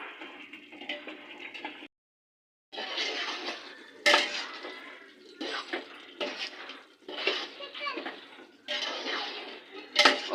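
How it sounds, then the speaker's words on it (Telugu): Country chicken biryani stirred in a pot with a plate: repeated scraping, grating strokes of the plate against the pot come in irregular bursts, separated by a short silent gap. "ప్లేట్ తీసుకొని మధ్య మధ్యలో కలుపుకుంటూ ఉండాలి"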